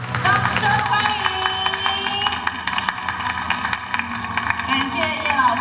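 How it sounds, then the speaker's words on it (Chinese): Applause at the 2019 National Crafts Achievement Award ceremony, a crowd clapping steadily from a moderate distance while an announcer speaks over it. "掌声欢迎！"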